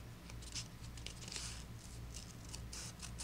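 Scissors cutting through an old book page, several crisp snipping strokes in quick irregular succession, close and fairly quiet over a low hum.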